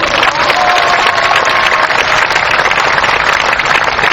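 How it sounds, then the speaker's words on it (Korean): A large crowd at an outdoor minimum-wage labor rally in Korea claps in solidarity: dense, loud, continuous applause mixed with crowd noise, sustained evenly for the whole stretch. "우리 그 동지를 위해서 연대 박수 한번 보내줍시다."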